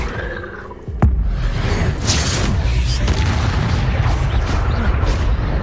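An Incendio fire spell is cast in Hogwarts Legacy: one sharp boom, followed by a roaring, rushing burst of flame that stays loud and steady until the end.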